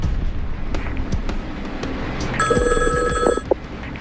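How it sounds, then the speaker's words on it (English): A telephone rings in the middle of the night with a single electronic trill, loud and near, preceded by scattered soft clicks and knocks in a quiet room. "on the anniversary of the abduction, the phone rang in the middle of the night"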